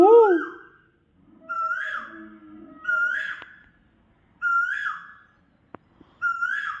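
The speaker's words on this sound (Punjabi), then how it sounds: "ਲੋ ਕੋਇਲ ਆ ਕੇ ਭਾਈ ਕੋਇਲ" An Asian koel calls out several times, repeated rising whistled notes spaced a second or two apart, clear and fairly close, with a sharp click in between.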